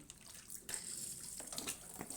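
Clothes, including thermal leggings, rinsed by hand in cold tap water: splashing and running water in short irregular bursts, close and fairly quiet.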